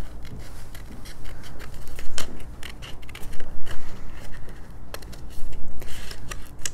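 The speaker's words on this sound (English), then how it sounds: "I want to use my sharper scissors, my sharpest of in the bunch." Sharp scissors fussy-cutting a paper princess cut-apart from a craft collection, producing a rapid run of crisp close snips and rustles in irregular bursts, with no voices.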